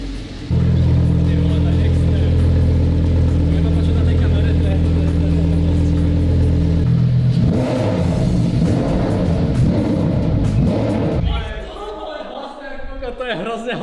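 A newly bought Lamborghini's engine starts with a loud, deep roar and idles heavily, then revs hard in rising and falling bursts before settling, close up with people talking nearby.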